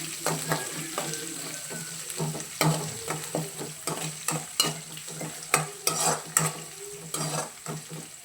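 Cinnamon and onion pieces frying in a pan for a village-style chicken curry, stirred with a utensil that scrapes and clacks in irregular strokes over a soft sizzle, close and fairly quiet with no talk.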